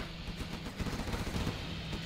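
Rapid cannon and gunfire in a 2v2 real-time strategy tournament match, a dense, continuous run of muffled booms and bursts layered over busy battle noise, steady and moderately loud throughout.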